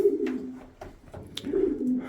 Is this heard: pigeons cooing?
yes